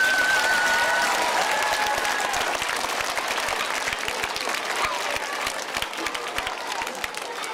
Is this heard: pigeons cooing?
no